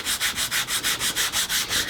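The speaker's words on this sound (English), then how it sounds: "With sanding motion, we're just going to sand the bevel in it." Coarse sandpaper rubs a bevel into foam over plywood in quick, even back-and-forth strokes, about five per second, close and raspy.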